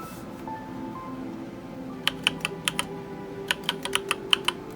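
Keystrokes on a Keychron K8 mechanical keyboard, two quick bursts of crisp clicky taps after a quiet start, close and clear over a faint background hum.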